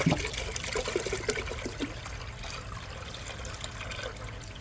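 Water trickles and pours steadily into a container to make a brine for a 3-pound turkey breast, about three-quarters of a gallon, a continuous close splashing flow with no talking.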